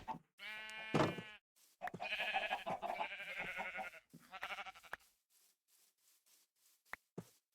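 A sheep in the Minecraft video game bleats in a series of quavering, wavering calls, one after another over about five seconds, fairly close and clear, followed by quiet with a couple of faint clicks.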